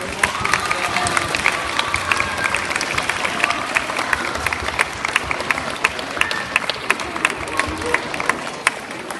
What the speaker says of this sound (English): give a well-deserved round of applause to your parents who have done such a great